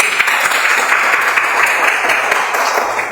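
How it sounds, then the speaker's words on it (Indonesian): A class of students claps together during a religious studies lesson, a loud, dense burst of hand clapping that continues steadily and fades slightly at the end. "Oke, tepuk tangan semuanya"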